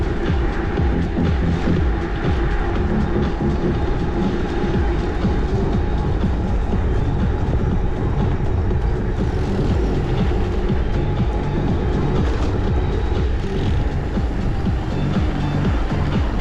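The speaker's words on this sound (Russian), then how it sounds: "Поезд едет, надо подождать." A train rumbles steadily past on the rails, a constant loud roar with faint rhythmic clatter and no voices.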